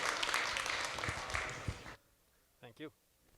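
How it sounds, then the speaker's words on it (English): Audience applause at an agriculture industry talk, a dense burst of clapping that stops abruptly, followed by a brief spoken word. "I'll get you to give him a round of applause and welcome him up here."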